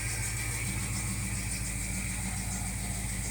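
A rebuilt 1968 Pontiac LeMans engine idles steadily while warming up, a continuous low rumble with a constant throb and no revving, close and loud throughout.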